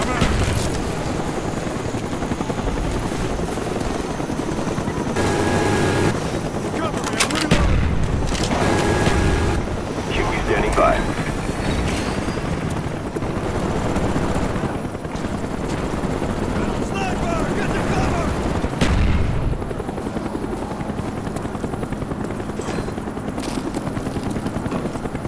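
Rotor noise from a care package helicopter in Call of Duty Black Ops multiplayer on the Summit map runs steadily throughout, mixed with bursts of gunfire, explosions and radio voice lines.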